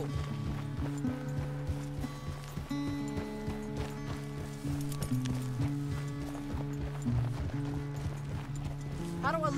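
Galloping horse hooves in Red Dead Redemption 2, a steady clip-clop rhythm running the whole time under game music, with occasional talk and a brief whinny near the end.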